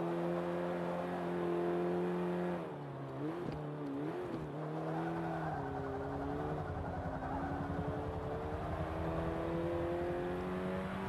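A Renault Megane engine in the Forza Motorsport 5 racing game revs and accelerates steadily, its tone climbing through gear changes with a brief dip mid-run, sustained and fairly loud with no talk.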